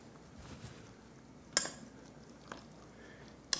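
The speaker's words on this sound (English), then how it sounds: "Stir it in there." A spoon clinks against a cooking pot of pork backbone while food is stirred, giving a few brief, sharp metallic taps spaced over a quiet, faintly noisy kitchen background.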